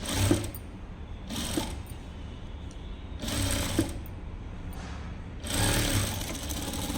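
A sewing machine top-stitching a child's top runs in short bursts, four clear stretches of rapid whirring separated by quieter pauses, close and fairly soft, with no talk.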